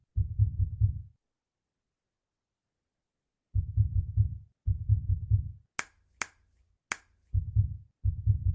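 An EMDR bilateral audio tone glitching into a doubled sound: soft low thumping pulses arrive in clustered pairs, separated by gaps of silence, with a few sharp clicks in between, heard alone and fairly quiet.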